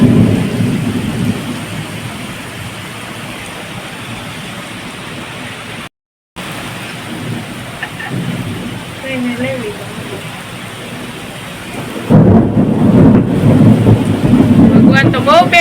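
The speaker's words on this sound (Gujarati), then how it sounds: "પવન પવન ને વરસાદ, વીજળીના કડાકા કડાકા." A heavy thunderstorm at home with strong wind and pouring rain, a dense steady roar of rainfall with deep thunder rumbles swelling louder near the end and voices faintly mixed in.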